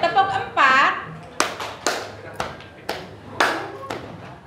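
In a classroom concentration exercise, pupils clap their hands together in counted groups. A sharp burst of clapping is followed by several separate group claps at roughly half-second intervals, with a teacher's voice heard at the start.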